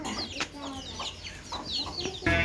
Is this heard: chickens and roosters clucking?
yes